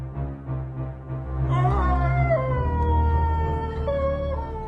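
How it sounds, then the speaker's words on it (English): A hound's drawn-out howl as a radio drama sound effect rises and wavers in pitch over a low rumbling bed, fairly loud and sustained with no talking. "Yes, Watson, the Hound is quite real."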